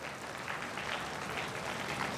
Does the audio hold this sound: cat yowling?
no